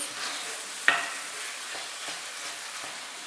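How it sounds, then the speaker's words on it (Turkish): Pepper paste and tomato paste sautéing in a pan with onions for an aubergine dish, a soft steady sizzle with a sharp utensil clack near the start and light stirring scrapes after. "Salçaları da ekleyip birlikte kavurmaya devam ediyorum."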